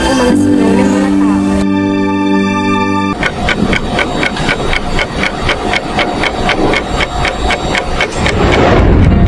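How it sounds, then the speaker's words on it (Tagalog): Below deck on a ship, a sustained tone gives way after about three seconds to the ship's engine: a loud, steady, rhythmic mechanical clatter that runs evenly to the end. "Rinig na rinig ang makina ng barko"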